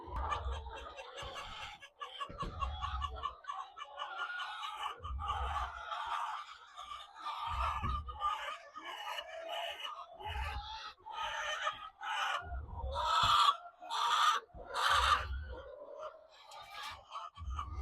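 Laying hens in a cage-free setup cluck and squawk repeatedly, close and fairly loud, in irregular bursts that keep going throughout.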